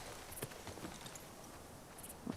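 Horse hooves clip-clopping at a walking pace in The Last of Us Part 2, a few soft, fairly distant steps over a quiet game ambience with no one talking.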